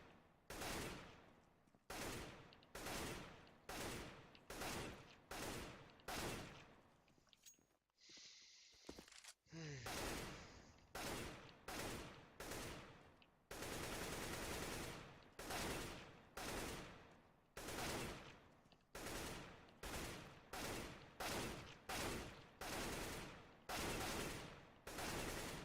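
Rifle gunfire in the game CS:GO, fired in long automatic spray bursts one after another with a brief pause midway, loud and close.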